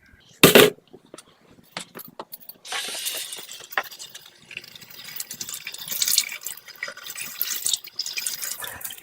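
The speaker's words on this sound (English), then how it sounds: "I also will try and rinse it out with water." Water runs and splashes while rinsing out the dirty tank of a Tennant T5 floor scrubber that holds metal shavings, with a sharp clatter near the start followed by uneven gushing and dripping.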